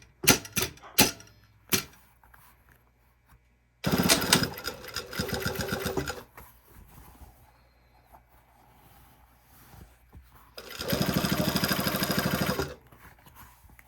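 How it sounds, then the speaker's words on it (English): A sewing machine topstitches a sleeve zipper in two sustained loud runs of rapid mechanical stitching, with a few sharp clicks and quiet handling between them. "Now let's top stitch."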